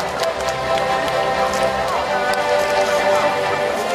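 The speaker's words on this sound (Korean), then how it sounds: "큰 박수 보내주시기 바랍니다" Applause at an award ceremony during the opening of the Icheon ginseng festival, a steady wash of crowd clapping lasting throughout, moderately loud with no talk over it.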